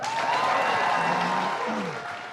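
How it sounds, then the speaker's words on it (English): Applause from attendees at an announcement of a silicon carbide fab in Marcy, New York, a steady crowd clapping that swells briefly then tapers slightly, with a faint tone sliding underneath. "That applause went on for a while"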